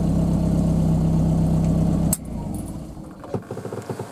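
Car engine running after starting at a village service station, a steady close idle hum that cuts off abruptly with a click, followed by faint rattling taps.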